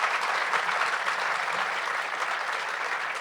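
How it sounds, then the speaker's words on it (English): An audience applauds a panel of journalists with sustained, dense clapping that stays loud and even throughout. "Give them another round of applause."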